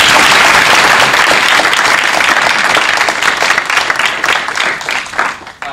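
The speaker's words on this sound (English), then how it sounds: "If we give them a round of applause." Loud, dense audience applause for the panelists at a morning panel event, sustained and close, then thinning and tapering off toward the end.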